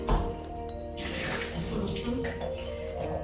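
Thyme sprigs rinsed under running tap water at a kitchen sink while preparing Jamaican green seasoning, a steady splashing stream with a few louder spatters, moderately close and alone without talk.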